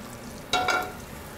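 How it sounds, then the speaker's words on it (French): Butter browning in a hot pan gives a brief burst of soft sizzle and frying crackle that swells for a moment and then eases back, with no talking. "Donc là, on fait revenir un peu le beurre."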